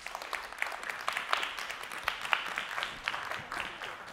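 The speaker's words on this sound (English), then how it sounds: "Give a really big and warm round of applause for Hazel Savage." Music-convention audience applauding a keynote speaker, a thinner patter of individual claps with distinct sharp hits, moderately loud and steady throughout.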